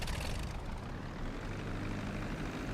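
A seaplane in GTA 5 Online taxis on water, its propeller engine giving a steady, fairly faint droning whir with a broad hiss and no voices.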